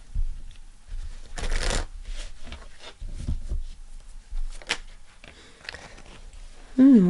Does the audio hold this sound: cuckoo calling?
no